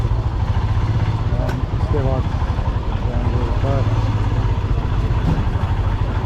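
A motorcycle engine idles with a steady low rumble on a mountain road near a gate, heard close, while someone talks over it and light clatter comes and goes.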